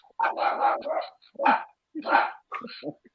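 A small poodle barks indoors in several separate bursts of yapping and yipping, with short pauses between them, fairly close and loud, and with no voices over the barks.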